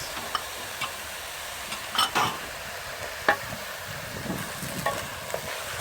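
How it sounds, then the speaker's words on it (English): Tomatoes and carrots go into a frying beef masala and are stirred, with a soft background sizzle broken by several sharp scraping and clinking utensil sounds at irregular intervals, close by and with no talk. "now it's time to add tomatoes,"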